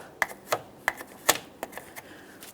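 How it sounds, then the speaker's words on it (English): A battery terminal cleaner tool scraping the battery terminal of a 2015-2020 Ford F-150, a series of crisp, irregular scratching clicks close up in a quiet setting. "Let's use a battery terminal cleaner tool here."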